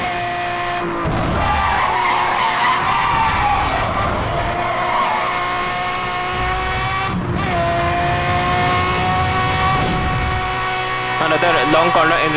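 A car in Need for Speed Hot Pursuit Remastered drifts through a long corner with loud, sustained tire skids and squeals over a revving engine, and a voice talks over the game sound.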